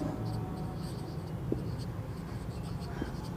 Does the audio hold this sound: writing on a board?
yes